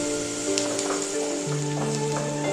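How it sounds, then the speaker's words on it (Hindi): Sliced onion and raw green chili frying in a pan give a steady, close crackling sizzle, with a faint hum beneath and occasional light clinks of stirring. "ये रखि पियाज को पकईदे। कंचा लंका को भी पकईदे।"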